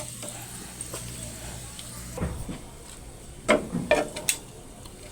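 Breakfast food frying in oil in a pan, a soft steady sizzle broken by several sharp stirring and scraping clicks from a utensil, close and moderately loud, with no talk.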